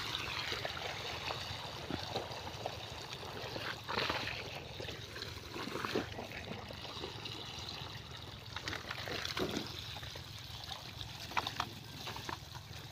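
Irrigation water runs into a farm field, a steady close-up gurgle and trickle that continues alone without pause.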